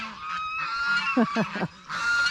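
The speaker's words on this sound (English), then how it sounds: "those geese, y'all, they're like little alarms" Several loud goose honks in quick succession, close by, with a couple of brief pauses between bursts and steady background noise throughout.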